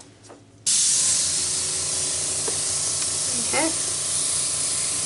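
An air blower switches on suddenly and hisses steadily over paint on a small 5x7 canvas, loud and close; a voice speaks briefly just before it starts.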